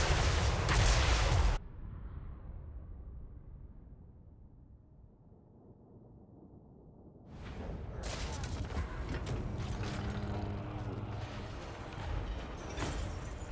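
Artillery bombardment on a Total War: Warhammer 3 battlefield, booming blasts and rumbling impacts at the start, a quieter low rumble, then a dense, continuous barrage of crashing explosions and battle noise.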